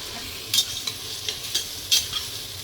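Onions fry for biryani with a bright, hissing sizzle and several quick scraping stirs, close and fairly loud.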